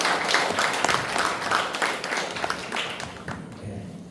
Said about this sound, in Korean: 뜨거운 박수를 모시겠습니다